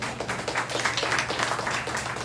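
A church congregation applauds with a moderate, even patter of clapping lasting a couple of seconds, close and continuous, with no voices standing out.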